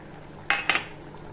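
A spoon scrapes and clinks twice against a pan of egg masala with ghee, coriander and turmeric, two quick metallic strokes close by over a quiet kitchen background.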